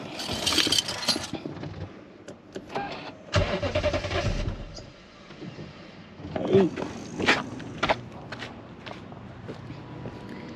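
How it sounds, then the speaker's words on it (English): A Lexus GS460-type V8 engine cranks and catches for the first time after sitting unused for a year, a brief starter whir and startup surge heard close, with clicks, footsteps and someone talking around it. "So now this is the first time I'm about to start this car in 1 year."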